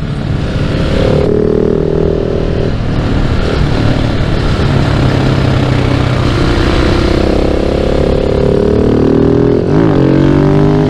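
A 690 supermoto motorcycle engine screams at high revs, loud and close, with rising and falling pitch as the rider works the throttle through gear changes.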